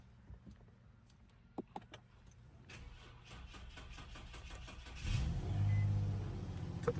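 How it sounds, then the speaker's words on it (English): An Infiniti G35 engine cranks and catches after a few sharp clicks, then settles into a steady mid-pitched idle that swells louder for a moment with a brief rev, heard close up with no talking. "Let's get this car on."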